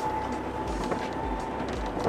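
Renault Twizy electric car driving, a continuous whirring road and motor noise with rhythmic low thumps from bumps or joints, heard from inside the vehicle.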